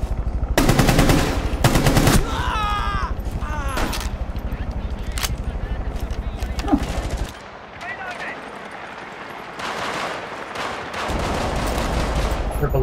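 Rapid automatic gunfire in the video game Rainbow Six Siege, loud bursts of rattling shots with short pauses between volleys, under players talking over voice chat.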